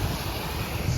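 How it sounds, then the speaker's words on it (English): A waterfall beside a hiking trail on the Bucktail Path sends up a continuous broad rushing roar, steady and fairly loud, with some wind buffeting the microphone and no voices. "I got another nice waterfall here"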